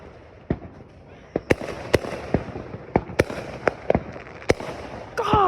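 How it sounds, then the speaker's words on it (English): Fourth of July fireworks bursting all around, a dozen or so sharp loud bangs and cracks at irregular intervals, some near and some farther off, with a faint background hiss and a brief whoosh at the end. "Oh my God, there's fireworks everywhere."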